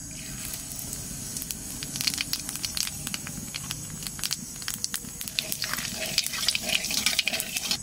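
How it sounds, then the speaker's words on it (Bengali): Nigella seeds dropped into hot mustard oil left from frying hilsa fish, crackling and spitting in dense, irregular pops close by that build toward the end. "মাছ ভাজা তেলের উপর দিয়ে দেবো কালো জিরে"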